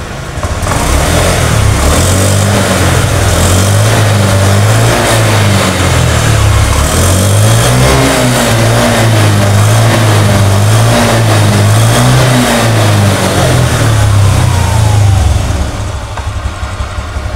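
A Honda Beat motor scooter engine is revved repeatedly up close, its loud buzzing note rising and falling in several blips before dropping back toward idle near the end, with no talking.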